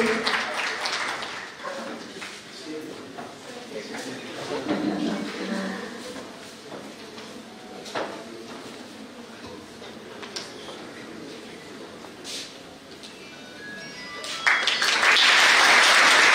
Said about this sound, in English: Let's give a huge round of applause for Dr. Balana